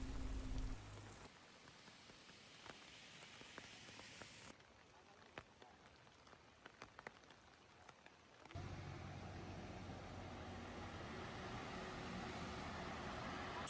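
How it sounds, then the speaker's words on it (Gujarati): Steady rain falls on the second straight day of monsoon showers in Chhota Udepur district. The wash of rain is broadband and continuous, heavier and louder in the last few seconds, with faint scattered drip ticks along the way. "સતત આજે બીજા દિવસે વરસાદ વરસી રહ્યો છે"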